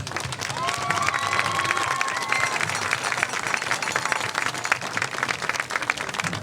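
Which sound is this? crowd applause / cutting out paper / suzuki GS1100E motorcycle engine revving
crowd applause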